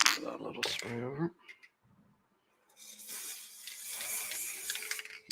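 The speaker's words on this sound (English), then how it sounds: "So this, I'm just going to spray in spots." An aerosol can sprays in short spots over static grass on a model railway layout, producing a steady airy hiss that follows a few seconds of talking and a brief quiet pause.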